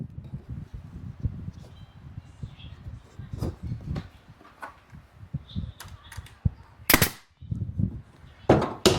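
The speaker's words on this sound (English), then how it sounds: "Take your nailer, and all you need is one shot right in the end." A nail gun fires into a wooden frame built for catching bee swarms, with two loud sharp pneumatic bangs late in the clip over earlier handling knocks and rustles nearby.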